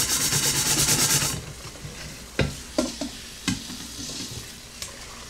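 Steel wool scrubs a soot-caked camp coffee pot used over wood, charcoal and propane: a dense, rapid rasping burst up close, then scattered sharp scrapes and knocks at a quieter level.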